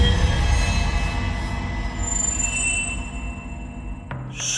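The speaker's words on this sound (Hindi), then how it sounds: "वह ट्रेन सुभाष के एकदम करीब आ जाती है" A train rolls close by with squealing wheels and a steady rumbling roar, used as a horror-story sound effect; a high metallic whine drifts across it and a sharp click lands near the end.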